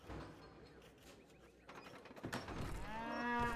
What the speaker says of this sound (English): all of these cows are gonna go down at the same time